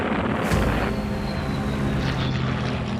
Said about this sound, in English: Patrick's Hurricane Squadron dives out of the sun to attack the bombers.